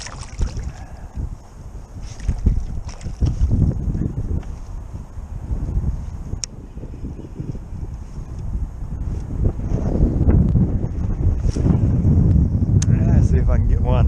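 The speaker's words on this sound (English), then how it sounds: "that wind's getting pretty brutal out here" Strong gusty wind buffets the microphone outdoors on a trout fishing outing, a constant low roar with rushing gusts that swell louder toward the end, broken by occasional small knocks.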